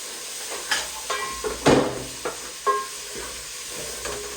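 Beef chunks for Kenyan beef tumbukiza stew stirred in a hot pot, a soft sizzle running underneath a few separate scraping and clattering strokes, close up and with no talk.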